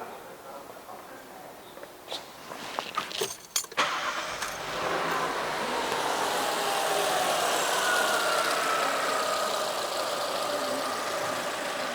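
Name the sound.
car engine starting and idling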